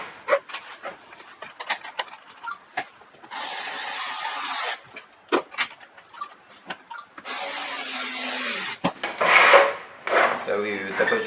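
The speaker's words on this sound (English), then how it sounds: "you can just drive in the screws on the back and then finish the installation." Screws being driven into the back plate of a JCSMARTS 6068 door lock during installation, giving intermittent scraping and grinding bursts with short handling knocks in between, close and moderately loud.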